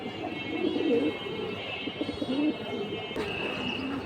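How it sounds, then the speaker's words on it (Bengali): Flyer pigeons coo in low, rolling calls close by, with some faint chirps in the background and a brief sharp click near the end, and no one talking. "এই যে দেখেন, তো মিস করবেন না নিতে চাইলে ফ্লায়ার কবুতর এগুলা"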